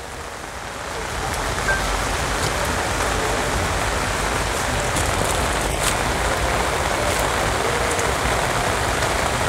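Steady rain pours down outdoors with a constant broadband hiss, loud and close throughout after a quieter first second, with a few faint taps above it.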